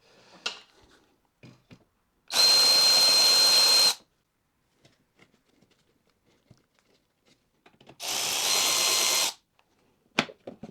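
A power driver whirs in two sharp bursts, about one and a half seconds each, while removing 8mm screws from a BMW N43 engine, with small clicks and taps in the quiet gaps between.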